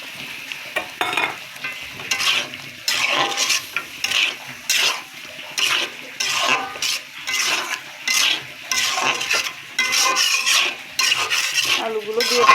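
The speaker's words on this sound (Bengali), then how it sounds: "আলুগুলো দিয়ে কষিয়ে নেব" Fried potatoes are stirred in a pan of spiced gravy for katla fish curry. A spoon scrapes and clatters in short rhythmic bursts over a constant close sizzle.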